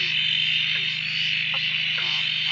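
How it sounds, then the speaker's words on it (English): A dense frog chorus on a night after rain near Drake, a constant high trilling drone with deeper repeated croaks and a low steady hum underneath, all loud and close. "Listen to the frog chorus."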